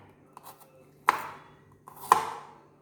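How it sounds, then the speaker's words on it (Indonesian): A knife chops garlic on a cutting board in a home kitchen, two sharp distinct strikes about a second apart over soft background noise, close and clear with no talking. "bawang putihnya kita rajang"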